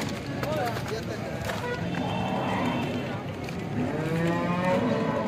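Cattle at a cow market in Alephata, with moos mixed into a busy background of crowd chatter and passing traffic, while people talk nearby throughout.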